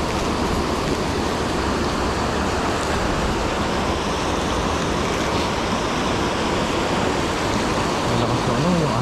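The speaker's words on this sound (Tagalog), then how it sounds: "Malaki yung bukas ng dam." Strong rushing water pours from an opened dam at night, a dense, loud, unbroken roar holding steady throughout with no talk.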